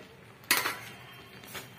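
Sesame seeds tipped into hot jaggery syrup in a pan on the stove, heard as two short scraping, rustling bursts about a second apart over a quiet background.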